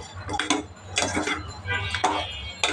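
Boondi gets stirred into sugar syrup in a pan, with a spoon clinking and scraping in short, uneven strokes, close and moderately quiet.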